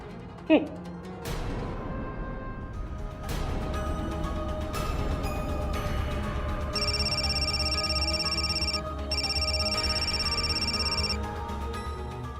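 A phone rings in repeated electronic bursts, two long rings, over a steady background hum.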